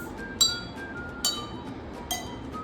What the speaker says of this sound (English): take any pencil and then hit the glasses